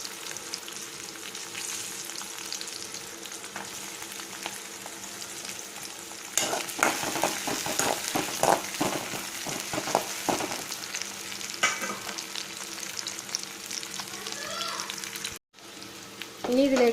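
Coconut pieces frying in hot oil with green chilli, a constant crackling sizzle that grows louder midway as stirring scrapes and spatters join, close-up, with a brief break near the end.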